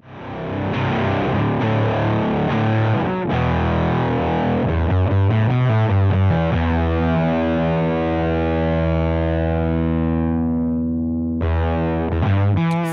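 Electric guitar through a muff-style fuzz pedal, thick and saturated, playing chords and then a long sustained note that rings out and fades, with a final short strum at the end.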